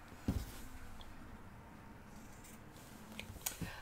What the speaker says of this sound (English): the first thing we're going to do is, again, snip our corners, being careful not to cut into our seam